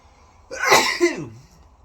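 A single sharp sneeze bursts out, loud and close, in an otherwise quiet moment.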